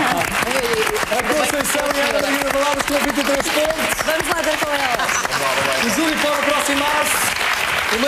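Studio audience at a televised fado contest semi-final applauding steadily and densely throughout, with a presenter talking loudly over the clapping.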